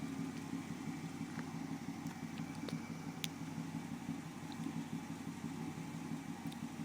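A 1991 Dodge Ram D150 pickup truck idling through a Flowmaster exhaust gives a steady, low, rumbling drone that stays even and unbroken throughout, heard close up with no one talking.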